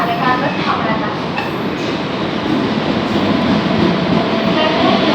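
A Mumbai AC local train at a station, a loud continuous rumbling roar of the moving train filling the whole clip, with faint announcement-like sounds mixed in.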